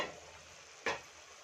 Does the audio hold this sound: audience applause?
no